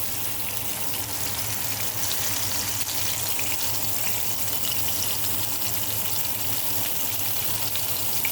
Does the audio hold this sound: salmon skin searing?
yes